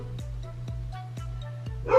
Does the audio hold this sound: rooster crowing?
no